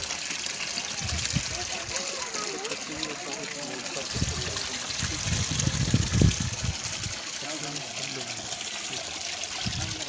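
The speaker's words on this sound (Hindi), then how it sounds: "अभी हम घर में पानी ये दे रहे हैं। ये पानी चल रहा है।" Water running from a household supply line, a steady broadband trickle and gush filling the background with low thumps mixed in, while voices talk over it.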